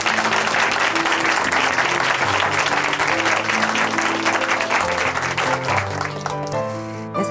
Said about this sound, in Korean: 자매님의 가정도 박수를 함께 축복해드리겠습니다